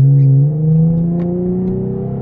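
A Jeep engine with chrome rims and chrome window trim revs close by, a steady low drone that climbs slightly in pitch, loud and alone with no talk.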